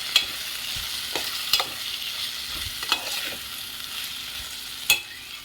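Masala made from cloves, cinnamon, cardamom and coriander being stirred into a brinjal curry in a pan, a constant sizzle broken by several sharp spoon scrapes and knocks, close up.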